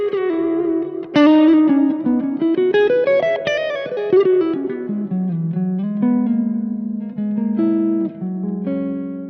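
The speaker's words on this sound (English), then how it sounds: "This pedal was designed to replicate the sound of a Dumble Steel String Singer" An electric guitar played through a Dumble-style overdrive pedal modeled on the Steel String Singer amp, mildly driven with a fat, warm tone, picking a continuous melodic line with bends and sustained notes, close and without talk.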